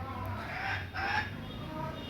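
Native farm chickens cluck softly in the background, a few faint calls over low steady room noise, with a voice murmuring faintly.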